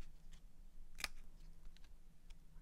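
A single crisp snip of scissors trimming paper for a homemade seahorse party decoration, close and quiet against faint room noise.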